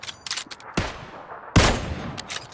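Sharp gunshots from a 7.62mm assault rifle in PUBG crack out in two loud close bursts with fainter shots between, echoing briefly.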